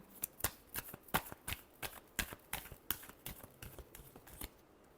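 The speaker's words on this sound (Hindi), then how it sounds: "Last shuffle." Tarot cards are shuffled by hand in a quiet room, giving a rapid series of about a dozen crisp riffling bursts in an irregular rhythm, close and fairly soft.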